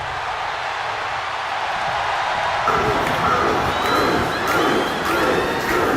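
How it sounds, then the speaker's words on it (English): A capacity wrestling crowd chants and cheers, the roar swelling partway through into a louder, rhythmic chant that fills the hall, with no clear single voice. "And here come the Bruce chants again."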